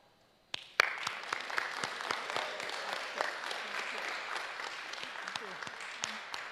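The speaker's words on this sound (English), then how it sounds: "Big round of applause for Sister Trini." An audience at a social workers' association conference in Guam breaks into sustained applause after a brief quiet start, a dense wash of many hands clapping with a few louder individual claps standing out.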